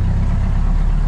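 A car engine, low on oil the day before and knocking then, now idles smoothly after oil was added: a steady, even low rumble held close and loud throughout with no knocking.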